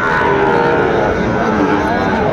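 A Sahiwal bull calf moos at a busy cattle market in Dinajpur, a loud, drawn-out low call over the chatter and bustle of the crowd.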